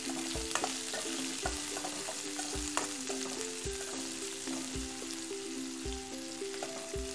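Green chilli and chopped onion fry in hot oil as a tempering for vegetable dalia khichdi, a steady close sizzle with soft stirring scrapes and a few regular knocks of the spoon against the pan.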